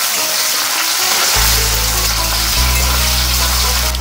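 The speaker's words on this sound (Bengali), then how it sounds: "এবার দিয়ে দিচ্ছি কুচানো পেঁয়াজ, এখানে 2টো পেঁয়াজ দিয়েছি।" Two chopped onions hit hot oil tempered with cumin for a mutton curry, setting off a loud, steady sizzle that bursts in about a third of the way through and keeps frying close up, with no talking.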